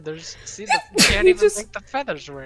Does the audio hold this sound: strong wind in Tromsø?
no